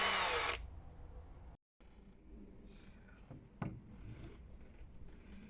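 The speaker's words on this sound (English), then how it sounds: "This is going to be my first hole drilled in my Vivaro van" A power drill bores a 4mm pilot hole into the body of a 2019 Vauxhall Vivaro van, making a short loud whine at the start that cuts off, followed by quieter handling clatter and a sharp knock, nearby and without speech.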